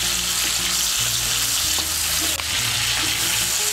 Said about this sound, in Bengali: চিংড়ি মাছগুলোকে হালকা করে ভেজে নেব।